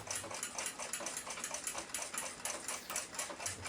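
A clock wheel from an 1894 Seth Thomas movement spins freely in a newly fitted bushing, giving off a quiet, steady stream of rapid mechanical ticking with an even rhythm, heard close and alone.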